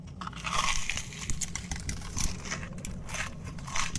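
Someone bites into a crunchy potato corn dog with a mochi-like dough interior, giving close, crackly crunching and chewing bursts that repeat across a few seconds.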